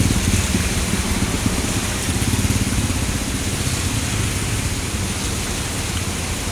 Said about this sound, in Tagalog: wala pa rin pag-aasang tumigil itong napakalakas na buhos ng ulan